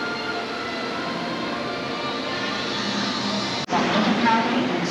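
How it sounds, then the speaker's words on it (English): A Hong Kong metro train arrives at the platform with a steady rolling rumble and rising whine, then a sudden break and a louder surge with a squeal near the end. "Here comes the train."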